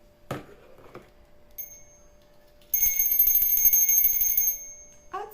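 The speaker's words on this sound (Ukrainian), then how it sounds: "Це дзвоник." A small hand bell in a kindergarten music class rings out in a bright metallic burst of high tones lasting under two seconds, preceded by a few soft knocks, in an otherwise quiet room.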